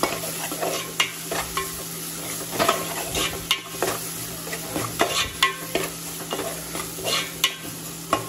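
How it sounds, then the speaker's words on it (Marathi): Crushed garlic sizzles in a pan for a dried fish curry while a spoon stirs it, giving a steady frying hiss broken by repeated scraping strokes close by. "आता मी याच्यामध्ये लसूण टाकते, ठेचलेला लसूण आहे तो लसूण टाकते"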